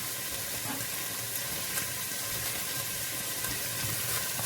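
Lebanese green beans and meat frying in a pan give a steady, close, unbroken sizzle with a faint bubbling hiss throughout and no talking.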